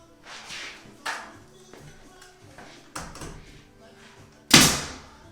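A pre-hung interior door is adjusted in its frame, giving several knocks and bumps of wood against wood and one sharp, loud slam-like hit near the end, heard close up with no talk.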